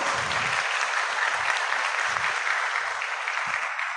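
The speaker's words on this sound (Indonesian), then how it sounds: "Tepuk tangan." An audience at a national seminar on constitutional law claps steadily for a few seconds. The dense, even applause fills the room close by, with no voices over it.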